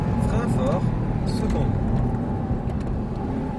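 Audi R8 engine under acceleration on a race track, a loud continuous drone throughout with an instructor's voice speaking over it.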